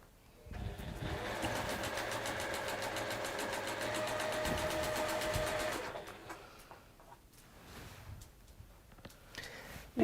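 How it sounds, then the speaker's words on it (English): A sewing machine chain piecing quilt squares runs in a fast, steady mechanical stitching rhythm for several seconds, then stops, leaving faint handling and rustling sounds. "we'll just get those sewn together quickly because we can chain piece those"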